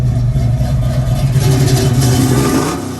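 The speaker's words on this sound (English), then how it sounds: "I want you to hear the exhaust." A 1971 Pontiac Firebird's engine revs through its exhaust, close and loud, with a deep steady rumble and rising and falling pitch that settles toward the end.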